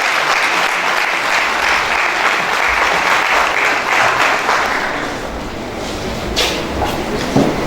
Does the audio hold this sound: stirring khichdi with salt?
no